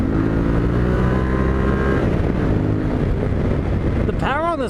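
A 2021 Yamaha Tenere 700 pinned at full throttle in fourth gear at about 50 mph on a backcountry road gives a loud, steady engine drone under heavy wind buffeting, with a short rising whine near the end.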